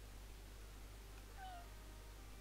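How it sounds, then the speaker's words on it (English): A cat in the Pokemon Insurgence video game gives a single faint, short meow partway through, over a steady low background hum. "Was that a fucking cat?"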